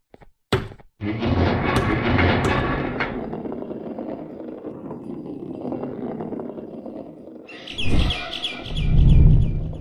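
Bird chirps and tweets from a Garry's Mod chase scene, a few bright calls breaking over dense rumbling game noise and heavy thuds, with a louder burst of chirping near the end.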